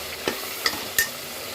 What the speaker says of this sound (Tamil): பாருங்கள், இது நல்லா வதங்கட்டும்